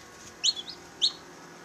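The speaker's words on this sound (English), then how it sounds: "This is the first Phoenix chick hatched 3 days early." A three-day-old Phoenix chicken chick chirps a few times, high thin peeps close up in a quiet room.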